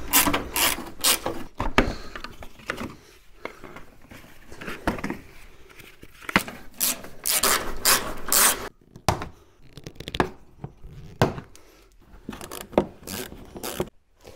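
A ratchet working loose the bolts on the front bumper of a cheap used car, repeated loud clicking and scraping bursts in irregular spurts close by, with clunks and short pauses between them.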